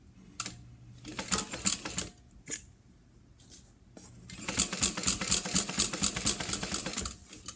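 A sewing machine bastes fabric, running in short bursts with brief pauses and then a longer continuous stretch of rapid, rhythmic stitching that is close and moderately loud.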